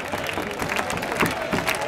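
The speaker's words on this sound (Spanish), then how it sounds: "Pido estas palmas teniendo y metiéndose ahí" Spectators at a bullfight in Pedrola clap together in a steady, dense patter that fills the arena at moderate volume, with a general murmur of crowd noise underneath.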